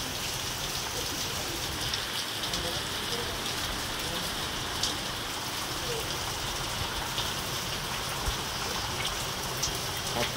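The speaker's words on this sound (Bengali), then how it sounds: "এ বাবা, কি জোর বৃষ্টি নেমেছে!" Heavy rain pours down steadily, forming a dense, even hiss of drops on surfaces that continues unbroken throughout, with occasional louder drips near the listener.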